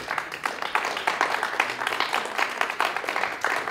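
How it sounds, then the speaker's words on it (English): Applause from a business show audience, many hands clapping together in a steady, moderately loud burst lasting several seconds, close and continuous without speech over it. "Applaud if you think you would"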